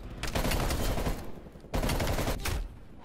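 QBZ-83 assault rifle from Call of Duty Cold War fires two sustained automatic bursts, loud and close, each lasting about a second with a brief pause between.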